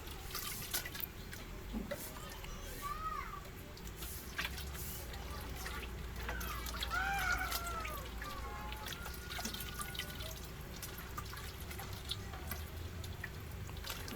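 Soft, steady trickling and dripping of water while a pet bird is bathed in shampoo and soaked, a close splashing patter with a few small chirps heard through it.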